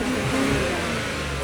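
A Jaguar Land Rover car engine revs loud and close, holding a steady, full roar through the whole short stretch without a break.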